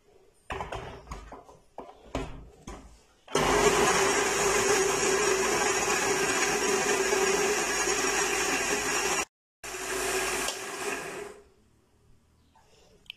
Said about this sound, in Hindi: अब इसे ब्लेंड कर लेंगे।